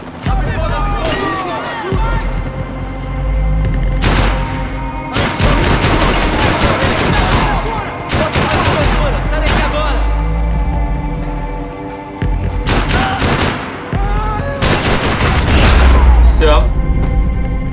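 Gunfire and explosions in the video game Max Payne 3: repeated bursts of rapid shooting and heavy booms come in clusters separated by short gaps, loud and close.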